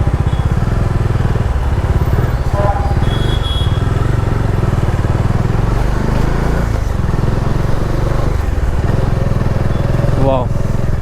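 A Bajaj Dominar 400 motorcycle engine runs close and steady with a low throb, while people talk over it.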